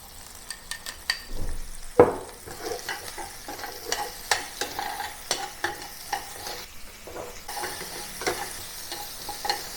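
Onion and the white part of spring onion frying in a pot, a steady sizzle with frequent close scrapes and clicks of stirring, no talking.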